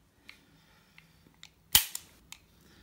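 A Colt M45 CQBP CO2 BB pistol fires with one sharp, loud crack followed by a quick metallic clack, amid several faint handling clicks and taps nearby, with no talking.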